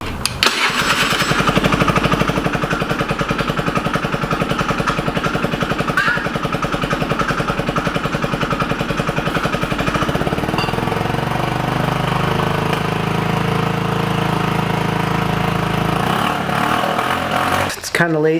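50cc Chinese scooter engine after a carburetor refit, close and loud, running with a rapid rough putter that settles into a lower steady idle before cutting off near the end.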